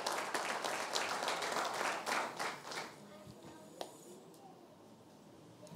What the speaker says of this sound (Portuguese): Vamos aplaudir as mulheres?